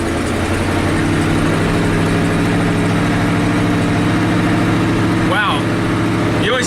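A 1984 Ford F-250 truck engine pulls in low first gear with a steady, mid-pitched drone that holds throughout, followed by a couple of brief sharper sounds near the end.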